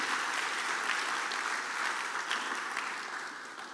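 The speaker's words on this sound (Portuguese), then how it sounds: "Dê um aplauso ao Senhor" A church congregation claps steadily and loudly for the whole stretch, a dense, continuous wash of applause with no voices on top.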